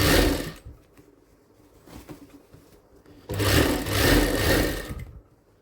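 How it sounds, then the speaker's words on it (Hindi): A sewing machine stitches a designer blouse in two loud running bursts separated by a quieter pause with faint handling noises, close up. "ये पूरा प्रॉपर निशान के ऊपर हम सिलाई लगा देंगे।"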